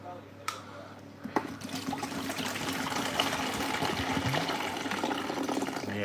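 One litre of water pours steadily into a container, a continuous splashing rush that starts after a couple of faint knocks and continues to the end, fairly close and without talk.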